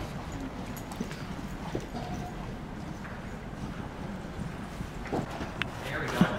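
Horse hooves clop in a steady, soft rhythm in an arena, muffled and fairly distant under wind noise, with a few sharper knocks near the end.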